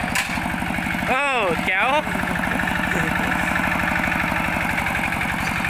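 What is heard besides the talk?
two-wheel hand tractor (iteak) engine running while riding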